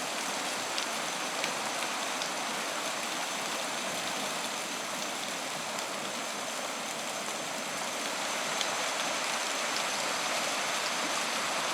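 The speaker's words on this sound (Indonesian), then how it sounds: "Hijau, itu di sana ada air terjun." Steady broadband rush of a deep river and a waterfall in a Papua forest, constant and fairly loud with no breaks, filling the whole stretch without voices.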